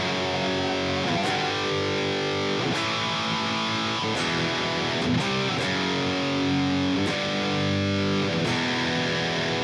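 Distorted electric guitar plays the verse of a thrash song, a steady, loud run of chugging power-chord riffs with sharp accents, played alone with no talking.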